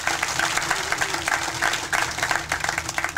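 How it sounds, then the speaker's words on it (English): Round of applause from an outdoor crowd at a senior recreation center groundbreaking, with individual claps audible in an uneven, rippling rhythm and no talking. "please give them a round of applause because they deserve at least another one"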